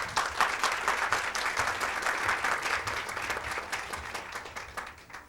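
A crowd applauds to welcome a speaker to the stage at a panel discussion evening, with sustained, full clapping from many people that rolls on evenly for about five seconds with slight swells.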